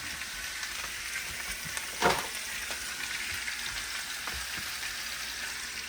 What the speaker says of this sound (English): So we're going to fry this up.